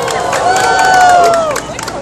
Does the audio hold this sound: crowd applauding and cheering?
yes